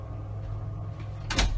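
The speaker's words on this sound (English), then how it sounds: "I'll just slam the door." A door slams once in a horror video game, a short thud near the end after a steady low hum.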